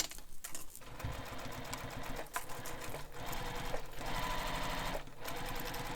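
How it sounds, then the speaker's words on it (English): Sewing machine stitching the corner of a fabric bag, a steady close mechanical whir with rapid needle chatter and a few brief pauses and restarts, no talk. "I am taking that one extra stitch in the corner so that I don't get angled stitches."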